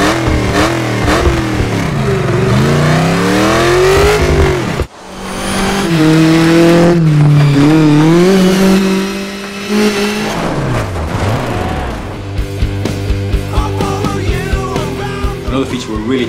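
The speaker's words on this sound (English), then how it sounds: "for Dirt 2, we really want to improve those car sounds" A rally car engine and tyres from the racing game Dirt 2 roar loud and close, revving up and down through rising gear shifts, with a brief cut midway and a busier rattling passage toward the end.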